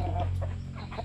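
Chickens received as gifts on a farm, giving a brief low clucking call, close and fairly soft, lasting about a second with no talk.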